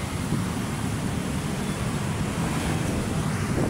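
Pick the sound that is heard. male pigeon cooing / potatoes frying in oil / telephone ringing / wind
wind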